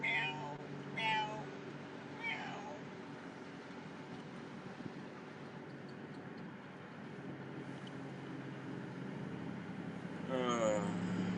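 A person imitates a lonely cat's repeated meowing, a run of sing-song meows at conversational distance, mixed with ordinary talk over a steady low background hum.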